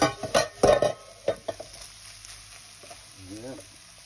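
Cold leftover rice dropped into a hot pan with shrimp for special fried rice, giving brief clattering impacts and a low sizzle before settling into quieter frying, with a voice speaking briefly near the end.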